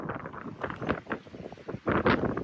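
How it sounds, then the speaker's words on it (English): Strong gusty wind at a campsite beside a 4Runner with an awning buffets the microphone in close, uneven rumbling bursts, surging louder near the end. "it just got crazy windy"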